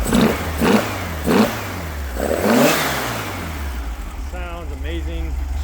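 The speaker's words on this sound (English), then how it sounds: "Love the sound of the dual quiet pack exhaust" A classic car's engine with a dual quiet pack exhaust revs in several loud, rising bursts over a low steady idle rumble, with a few words of speech near the end.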